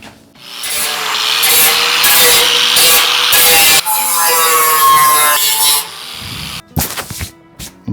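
A 40 grit flap disc spinning up to 13,300 RPM grinds a GMC pickup exit flange, a loud continuous harsh abrasive rasp with wavering pitch for nearly six seconds, then a couple of shorter scraping bursts.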